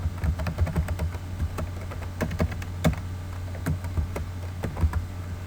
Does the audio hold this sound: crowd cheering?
no